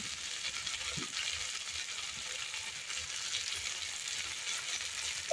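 Turmeric powder and ground chili paste fry in a pan for a kuche fish korma, a steady close sizzle with faint stirring scrapes throughout, no talk.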